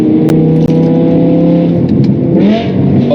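Loud, deep exhaust of a BMW M5 E61 Touring V10 with valves open, droning steadily up close, with a rising rev toward the end and a few sharp pops.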